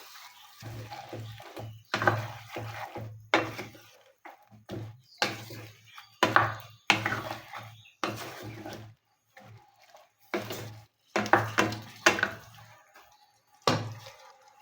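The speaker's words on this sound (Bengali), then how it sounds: "এখন নেড়ে চেড়ে মশলাগুলো সবজির সাথে মিশিয়ে নেবো" Spices and vegetables are stirred together in a pot for a fish and vegetable curry, the spoon scraping and the wet mixture sloshing in irregular close bursts separated by brief pauses.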